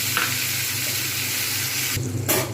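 A prepared spice paste frying in a pan for spicy bori curry gives a loud, continuous close sizzle that briefly dips near the end.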